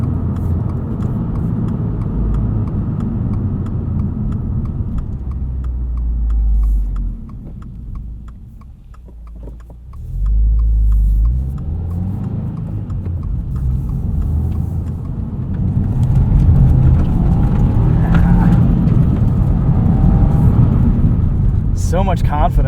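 A 2022 Subaru WRX Premium with a six-speed manual drives over gravel, its engine and road rumble steady and close, with crunching tyre noise rising toward the end; someone talks over it at times.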